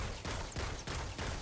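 Continuous rapid gunfire with short gaps between bursts, loud and dense, like an automatic weapon firing in a game.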